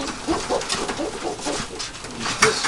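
Pigeons coo softly in repeated low, rolling calls, with rustling and light background noise around them.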